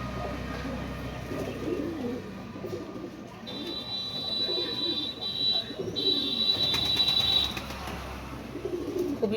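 Pigeons at a pigeon farm coo in low, rolling repeated calls over a background hum and a thin high whine, with other pigeons murmuring nearby throughout.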